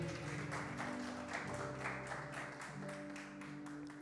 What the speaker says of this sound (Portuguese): Aplauso para Elias e Eliseu.